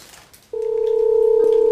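A telephone call tone on a phone, starting abruptly after a short quiet moment and then holding as a loud, steady, unbroken tone.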